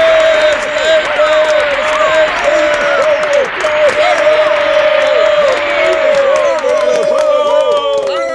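A large crowd applauds and cheers, with whoops and calls ringing out over steady clapping throughout, loud and close.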